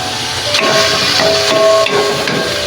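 Beef sautéing in a pan with soy sauce, Worcestershire and oyster sauce, giving a loud, steady hissing sizzle with a few dull knocks of a utensil, close and continuous without speech.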